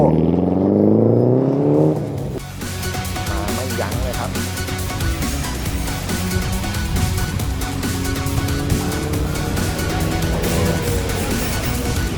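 A car driving off-road across farm and plantation terrain at a Michelin Passion Experience 2023 driving event, with a loud, close, steady engine drone, rising revs and rattling clatter throughout.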